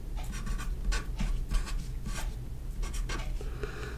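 A pen writes out math on paper, close scratchy strokes coming in short bursts with brief pauses between them.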